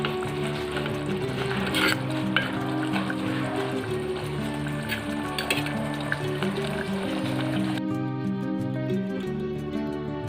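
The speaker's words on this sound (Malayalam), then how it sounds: "നന്നായിട്ട് എണ്ണ പോലെ ഇങ്ങനെ തിളച്ച് വരുന്നുണ്ട് അല്ലേ." Kerala fish curry cooked in coconut milk bubbles and sizzles as it reduces in the pan, a steady, close frying hiss that keeps going throughout.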